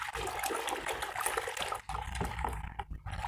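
Water and detergent with about 100 ml of hypo bleach being stirred together in a bucket for washing a school uniform, a continuous close sloshing and swirling that eases off briefly partway through.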